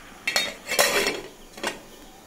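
A lid set down on a cooking pot during a Bengali kitchen dish of ash gourd with lentil dumplings, giving a few short metallic clinks and rattles, near and fairly loud, with no talk.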